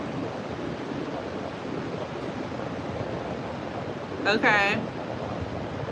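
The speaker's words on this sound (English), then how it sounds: "It's hurricane season here, so it's kind of extra windy." Steady wind rumble and surf-like noise fill the background on a Florida beach during hurricane season, with a brief word spoken near the end.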